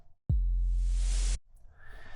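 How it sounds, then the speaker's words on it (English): A heavy, noisy drum and bass sub bass note made in the Serum 2 synthesizer plays alone, without effects, for about a second, loud and sustained, then cuts off abruptly into quiet room noise. "It's pretty heavy sub bass."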